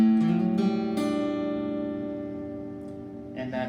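A strummed guitar chord rings out with a quick sliding pitch shift at the start, then sustains and slowly decays before faint new plucks.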